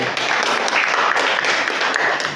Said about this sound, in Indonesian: terima kasih, tepuk tangan untuk Mbak Silmi.